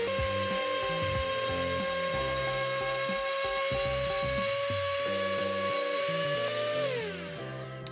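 A small power tool whines at a steady high pitch while sanding excess colour off a painted carved-wood floral perfume holder. It runs continuously up close, then winds down near the end.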